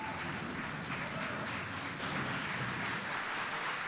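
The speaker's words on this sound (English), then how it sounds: "give a round of applause, a standing ovation to A.J. Jefferson" Applause and a standing ovation for A.J. Jefferson at a youth homelessness policy breakfast: a faint, steady wash of crowd clapping that holds evenly for the whole stretch, heard from a distance.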